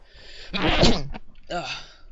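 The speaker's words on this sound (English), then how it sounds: "let's sneeze." One loud human sneeze right up close, a sharp explosive burst with a voiced tail, followed after a short pause by a brief breathy vocal sound.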